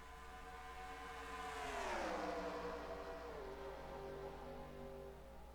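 Stock cars race in the NASCAR Racing 2003 video game at Pensacola. A pack of engines drones steadily, and one car roars past close by with a falling pitch, fairly quiet and with no voices.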